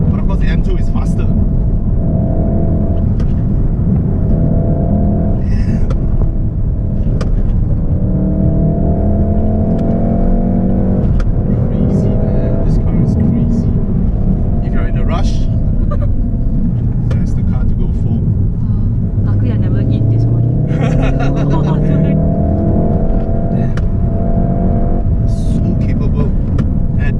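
A Volkswagen Golf R coupe drives on the road with a loud, steady engine drone whose pitch rises and falls as it accelerates and shifts, heard from inside the car and continuous throughout.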